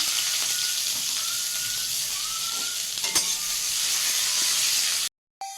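Cumin, bay leaf and whole spices sizzling in hot oil for an egg curry with fenugreek, a loud steady hiss and crackle with a sharp clink partway through, then an abrupt cut to silence.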